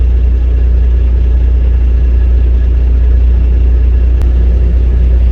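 A power-only transport truck pulls forward with a trailer after a load is strapped down, its heavy engine giving a steady, close, low rumble throughout with no voices.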